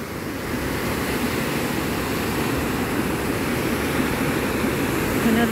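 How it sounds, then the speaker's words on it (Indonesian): Strong ocean waves at Nguluran beach in Gunung Kidul, Yogyakarta, make a loud, steady roar of surf with no break through the whole stretch. "Benar-benar kenceng ombaknya"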